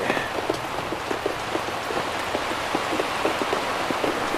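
Steady rain patters on a sailboat riding at anchor, a dense, even hiss of drops with small taps scattered throughout and no voices.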